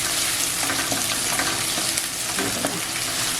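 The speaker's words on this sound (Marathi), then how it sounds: "अशी लसूण फ्राय करून घ्यायची आणि त्याच्यात आलं टाकूया" Finely chopped garlic and ginger frying in hot oil for Schezwan chutney, a dense, loud, continuous sizzle with faint stirring scrapes, heard close up and alone.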